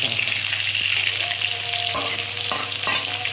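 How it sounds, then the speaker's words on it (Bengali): Potato pieces fry with salt, turmeric and spices in a pan, giving a dense, continuous close sizzle with a low hum beneath and a few light scrapes of stirring. "এবার আমি এর মধ্যে নুন হলুদ মশলা দিয়ে কষে নেব"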